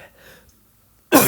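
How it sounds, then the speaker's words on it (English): After near silence, a man with a cold gives one short, sudden cough, loud and close. "I have coughs for a few days now. I've had a cold."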